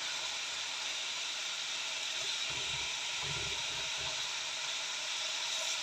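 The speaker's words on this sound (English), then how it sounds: "So I'm going to fry those all." Chicory frying in olive oil, a steady broad hiss with a low crackle and bubbling that rises in the middle, close and fairly loud with no talk.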